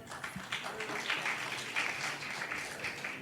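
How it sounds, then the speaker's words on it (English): A crowd at a youth TVET competition claps for a team, a moderate, fairly even patter of hands lasting a few seconds at middling distance. "Let's applaud them again."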